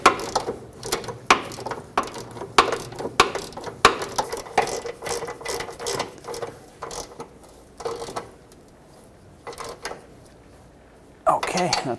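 Nuts threaded and tightened onto the rear bumper bolts of a Chevy Express 3500 van, heard as a run of sharp metallic clicks and ratcheting bursts, close and irregular, with brief pauses between.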